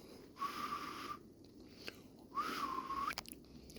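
A person attempting to whistle outdoors, producing two breathy, wavering tones separated by a pause, quiet and close with some sniffing and mouth noise in between.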